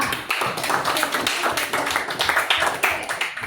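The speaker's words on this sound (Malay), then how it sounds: "Okey, tepukan untuk Eva." A classroom of students gives a brief round of applause for a classmate, a quick burst of scattered hand claps filling the room.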